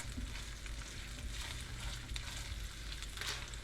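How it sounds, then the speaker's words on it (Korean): Sliced garlic sautés in a pan of oil with a steady, soft, close sizzle and crackle throughout, without talk. "마늘을 태우지 않고 맛있게 볶아줍니다"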